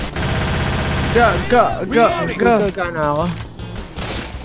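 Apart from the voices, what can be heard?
gunfire from the Left 4 Dead 2 video game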